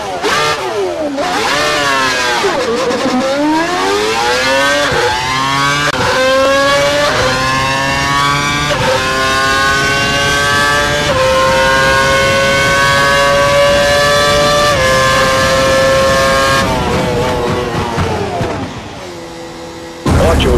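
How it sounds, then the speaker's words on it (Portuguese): Formula 1 car from the F1 2012 video game accelerates hard and loud, with the engine pitch climbing through repeated gear changes. "Vá pela pista e acelere acima de 257 km por hora"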